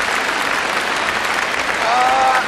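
Applause from an audience at a Trenčín volleyball-themed comedy event, steady dense clapping throughout with a brief tonal whistle-like sound near the end.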